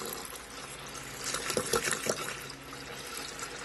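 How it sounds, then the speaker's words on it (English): Water is poured into brown rice horchata concentrate, a soft running splash that swells in the middle with a few brighter gurgles before settling back to a quiet trickle. "Okay, I'm just going to add a little bit of water."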